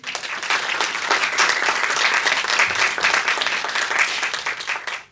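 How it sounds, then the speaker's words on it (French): Lively applause from an audience welcoming a political science lecturer at a summer French school event, close, dense clapping sustained for about five seconds before cutting off abruptly. "Et vous pouvez l'applaudir."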